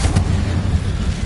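A Confringo spell blast in the Hogwarts Legacy video game, heard as a loud, deep, rumbling boom that stays heavy through the whole short moment.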